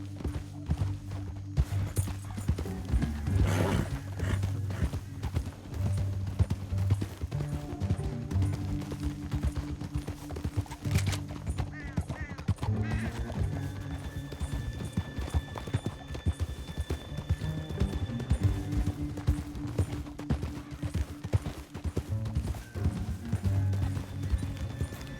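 Horse hooves clip-clop steadily while riding through Red Dead Redemption 2, a continuous rhythmic trot lasting throughout over low background rumble, with an occasional whinny.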